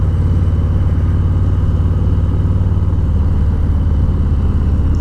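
A motorcycle rolls along at about 25 miles per hour, its engine holding a steady, even drone with a pulsing low hum, loud and close throughout.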